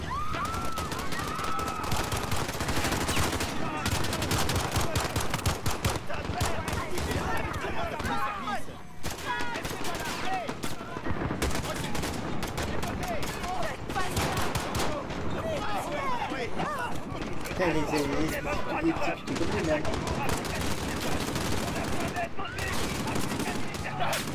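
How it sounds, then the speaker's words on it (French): Sustained bursts of rapid gunfire and shooting fill a scene in Call of Duty: Modern Warfare, dense and loud throughout, with voices talking over the combat. "Des coups de feu, plusieurs agents touchés."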